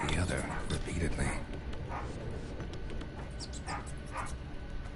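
A dog barks in the distance in The Witcher 3, set in the Velen region: short muffled yelps come and go faintly beneath a dense, noisy game ambience.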